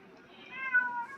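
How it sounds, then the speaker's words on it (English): A house cat gives a single drawn-out meow, wanting to be let in, rising and then fading over about a second, fairly close and clear in a quiet room. "looks like my kitty's wanting in, so you might hear him meowing"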